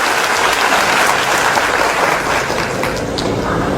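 A hall audience applauds presenters at a motivational speech event, dense continuous clapping filling the room at close range, steady throughout.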